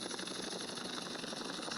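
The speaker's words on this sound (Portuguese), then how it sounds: "Dá mais um rolezinho aqui de helicóptero no GTA San Andreas com mod" Helicopter in the modded video game GTA San Andreas: a quiet, steady rotor drone with a rapid pulsing beat, continuous and without speech.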